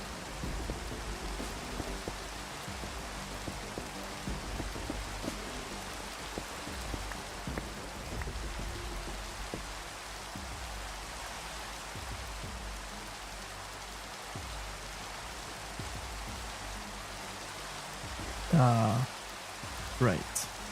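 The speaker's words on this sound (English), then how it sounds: "it does indeed rain every single waking minute on the server" Steady Minecraft rain falls on a multiplayer server, a constant soft hiss of drops pattering on surfaces, with brief louder knocks near the end.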